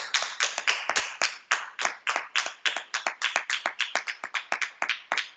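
A church congregation at a Shabbat service claps in praise, loud and close, in a steady rhythmic beat of sharp handclaps, about five per second, unbroken and with no voices.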